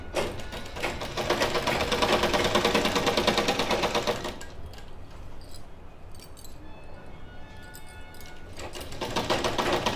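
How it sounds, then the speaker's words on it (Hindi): Sewing machine running fast on a long straight seam, hemming the side slit of a kurti, a steady close whirring rattle for about four seconds, then quieter handling clinks, and the motor starts again near the end. "हमें ये बड़ी सिलाई पे मशीन को सेट करके चाक मोड़ने हैं"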